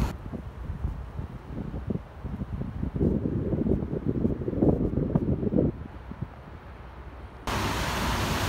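Strong outdoor wind gusts buffet the microphone in a street setting, producing irregular low rumbling bursts that swell louder midway, with a sudden hiss of noise near the end and no speech.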